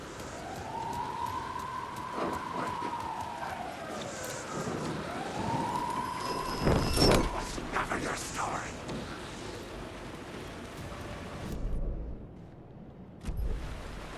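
Police car siren wailing in the game Alan Wake 2, rising and falling sweeps at moderate distance amid game ambience, with heavy booming impacts midway and someone talking over it.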